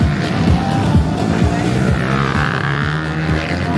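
Racing motorcycles, one ridden for Honda Philippines and one for Leo Limbaga Racing, roar around a race track. Loud engines rise and fall in quick passes, one overlapping another, with a steady low drone underneath.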